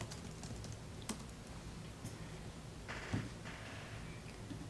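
Keys clatter on a computer keyboard as a search entry is typed, a few sharp keystrokes and short bursts of clicking over a quiet room hiss, close and fairly soft.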